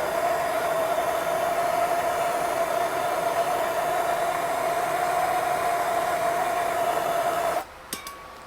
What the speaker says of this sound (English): You use a heat gun.